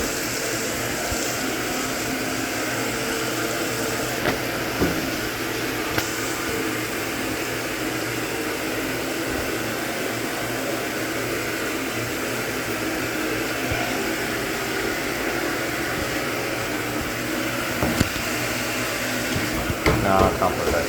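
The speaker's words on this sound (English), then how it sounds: "This is the Hoover Automatic 820." A Hoover Automatic 820 washing machine runs a full load on a high setting, giving a steady broadband whirring drone with faint mechanical rattles throughout; someone talks over it now and then.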